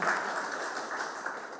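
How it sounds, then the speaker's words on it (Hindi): An audience at a Hindi theatre book presentation gives a short burst of dense, steady applause, heard from close by. "आप जोरदार ताली बजा सकते हैं।"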